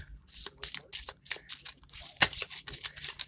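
Repeated papery riffling and soft slaps of tarot cards being shuffled, a steady busy rustle close by with a sharper snap near the end.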